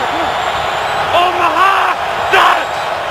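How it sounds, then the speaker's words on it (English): Stadium crowd at an NFL football game between the Broncos and Bears, a loud, continuous roar with rising yells and whoops, as close voices talk over the noise. "It's just so difficult with all the crowd noise."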